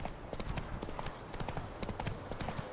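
Roach, the horse in The Witcher 3 video game, gallops with rapid, rhythmic hoofbeats, close and steady throughout, over a faint game background.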